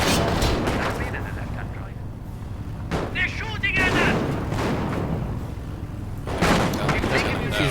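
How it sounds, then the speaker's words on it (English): A video game battle against infantry squads, with bursts of gunfire and heavy booming shots in quick, irregular volleys, heard under continuous excited talk from players. "They're shooting at us!"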